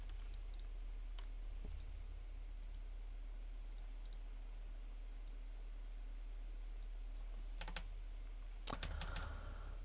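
Quiet, intermittent keystrokes on a computer keyboard while entering commands on an Atari, scattered taps with a few short clusters over steady low background hum.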